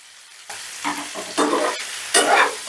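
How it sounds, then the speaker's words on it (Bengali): Paneer and onions frying in a pan as they are stirred, with three or four distinct scraping sweeps over a bright sizzle, close and fairly loud, with no talking. "এবার সমস্তটা একটু নাড়াচাড়া করে নিচ্ছি বেশ ভালো করে মিশিয়ে নিয়ে"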